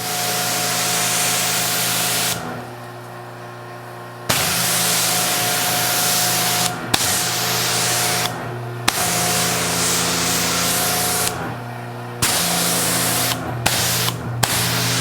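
A pressure washer spray gun, a cheaper alternative to a Mosmatic, rinses a Porsche GT3 with a loud, steady hiss of water that cuts off briefly several times before resuming. No one speaks.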